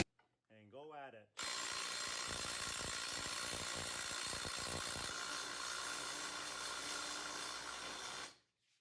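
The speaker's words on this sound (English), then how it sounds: "put the impact driver on the bolt. And go at it." An impact driver running on a 19 mm tow bar bolt while a Husky tow bar is fitted to an FJ40 Land Cruiser: one loud, continuous burst of about seven seconds, right after someone briefly speaks.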